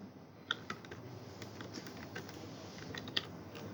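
Quick bursts of keystrokes on a computer keyboard as code is typed, with a few sharper key taps, faint and close against a quiet room hiss, with no talking.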